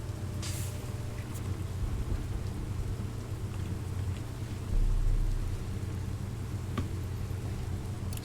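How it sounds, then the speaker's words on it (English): Steady rain pattering on the deck of a fishing boat in the Barents Sea, a constant dense hiss with a low rumbling swell midway and a few sharper drips, without voices. "At least it's raining, but it's beautiful."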